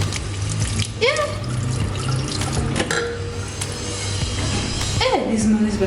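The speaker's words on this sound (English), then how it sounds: "The water is brown from the tap." A city tap runs brown water in a steady, loud, close rush, with a few brief squeaky sliding sounds layered over the flow.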